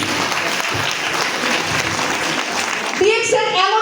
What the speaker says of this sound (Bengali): তার জন্য জোরে সোরে তালিয়া প্লিজ।